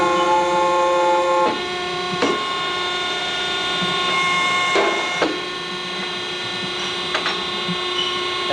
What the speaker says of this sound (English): you can see how the machine can bend. And the machine bends very fast